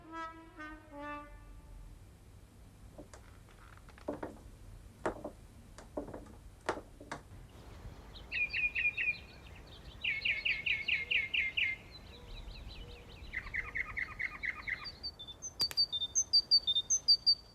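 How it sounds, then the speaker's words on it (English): Birds sing and chirp in a quiet town centre during lockdown, faint tweets and short trilled phrases repeating in bursts over a hushed background, with a few sharp clicks early on. "Once more, birdsong can be heard in the middle of town."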